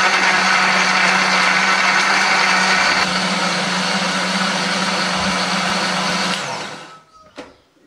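A blender grinds a paste of chili, candlenut, ginger, turmeric, garlic and a little water: a loud, steady whirring motor runs for about six seconds, then cuts off and spins down to quiet.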